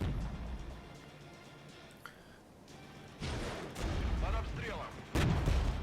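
Artillery fire support strikes in the Regiments video game, a Cold War East German armored assault: heavy booming blasts land in a few separate bursts over a low rumbling background, fairly faint and distant.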